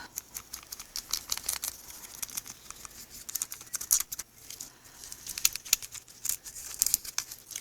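Paper trimmed for a handmade shaker card, close crisp snips and light rustling in short bursts with small pauses between cuts.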